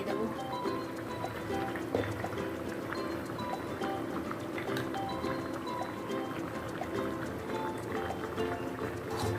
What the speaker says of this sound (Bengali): এবার আর কিছুক্ষণ ফুটিয়ে নেব, যাতে বড়াটা একটু নরম হয়ে যায়